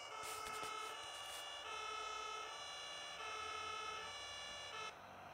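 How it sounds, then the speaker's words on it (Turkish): Sirens from emergency vehicles in a German firefighter video game, several overlapping tones wailing steadily and loudly throughout, cutting off just before the end. "Arabalar var ise siren de var."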